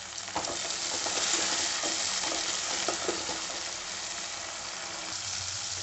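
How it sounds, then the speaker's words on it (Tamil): Tomato sautéing with onion and garlic in a pan, giving a dense continuous sizzle with a few light stirring scrapes early on, close and even, with no voices. "தக்காளி நல்லா வதங்கட்டும்"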